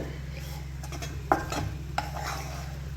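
A spoon scraping and stirring rava semolina fry in a pan, soft intermittent clinks over a steady low hum, with a couple of sharper taps against the metal.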